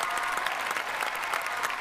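Steady, dense applause from a studio audience at a Marathi comedy show, a continuous close patter of clapping with no pauses.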